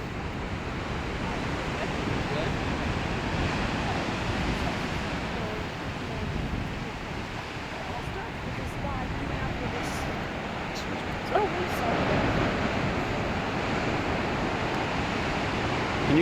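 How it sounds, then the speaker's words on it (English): Fairly large surf rolling in at a Sonoma County state beach, a continuous heavy roar of breaking waves with wind buffeting the microphone throughout. "And you can actually hear the waves crashing."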